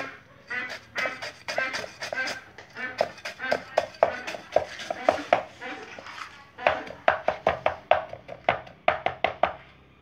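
A knife chops quickly and repeatedly on a cutting board as ingredients for Vietnamese duck blood pudding are minced fine. The blows are close and crisp, in steady bursts, with a brief pause near the middle.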